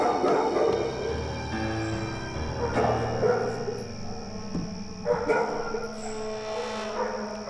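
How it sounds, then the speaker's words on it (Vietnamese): Several dogs barking and yipping at night, repeated excited barks from more than one animal at moderate distance, with some whimpering tones in between. "Đêm hôm khuya khoắt ai đi mà để chó sủa um sùm vậy?"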